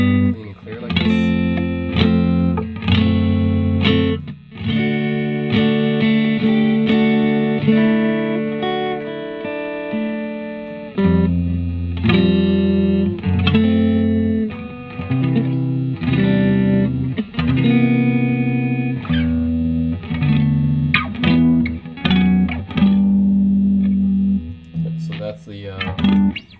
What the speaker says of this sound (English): the sound of the Fender Stratocaster with the delay bypassed.